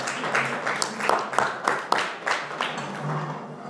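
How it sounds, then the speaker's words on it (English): Applause from a crowd, with claps rising and falling in a rough rhythm, fairly close and continuous throughout. "with a thunderous round of applause"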